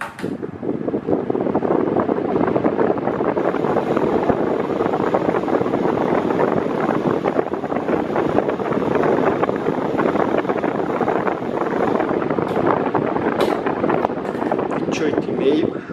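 A Mondial Turbo Silencio Bravio 40cm 140W electric fan runs at its minimum speed, giving a steady, fairly loud broadband whoosh of moving air with a low motor hum, constant and unbroken throughout with no talking.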